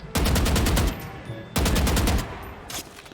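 Gunfire in the video game Valorant: two rapid bursts of automatic fire, each lasting just under a second, followed by a brief single shot, loud and close.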